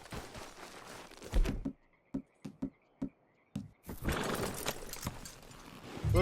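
Horse hooves clop at a walk in a grizzly-hunting video game: a handful of distinct knocks spaced about half a second apart, set between stretches of dense outdoor game ambience.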